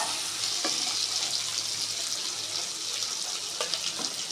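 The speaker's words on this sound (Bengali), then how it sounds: "বন্ধুরা আলু প্রায় ভাজা হয়ে গেছে এবার আমি এক প্যাক করে মশলাগুলো দিয়ে দিচ্ছি" Potatoes fry in a pan as spices are added, giving a continuous hiss and crackle with a few scraping stirs; no one speaks.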